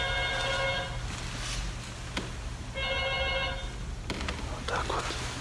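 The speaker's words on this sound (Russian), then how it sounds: "Кстати, мы сейчас слышим здесь звонок. Телефон." A telephone rings in an empty traffic police building, sounding as two bursts of trilling electronic bell tones at moderate distance against a steady background hum, with faint sounds in between.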